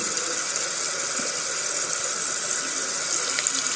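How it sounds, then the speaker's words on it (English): A makeup brush rinsed under a running tap, still soapy with foundation: a steady, close splash of water streaming into a sink without a break, no talking. "So now I'm going to take my hand again and just do the rinse out method."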